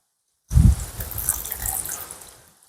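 Water is poured into a pot of stingray fish curry cooked outdoors in a village, starting with a heavy splash and settling into a steady pouring rush that tapers off over about two seconds, with no talk.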